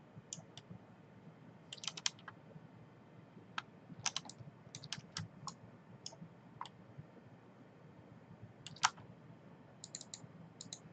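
Mouse clicking at a computer while modeling a CSGO AWP rifle in Maya: sharp, close clicks in small irregular clusters over a quiet room hum, with no talking.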